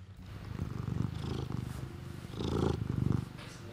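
A cat purrs in a soft, rhythmic rumble up close, the purr swelling and easing in steady breaths across a few seconds with no talking.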